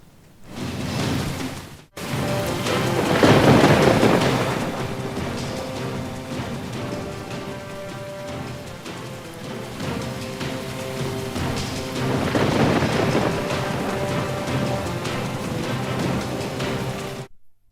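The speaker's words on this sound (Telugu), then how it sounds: "హైదరాబాద్ నగరంలో భారీ వర్షం కురుస్తోంది." Heavy rain pours down in Hyderabad city as a dense, continuous hiss of rainfall. It is loud and steady, swells around the start and again later, and has a short break near the beginning. No thunder stands out clearly.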